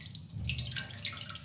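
Homemade almond milk, strained from blended almonds for almond sharbat, drips steadily into a jug as a quick run of small, close, wet drops over a faint low background.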